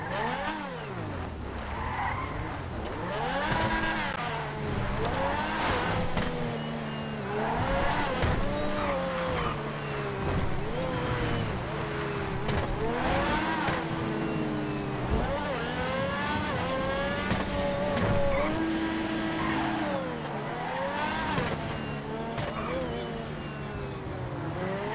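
Engine and tire noise of a Mercedes company car driven in a GTA roleplay game, steady revving with shifting pitch and squealing tires throughout, under continuous overlapping talk.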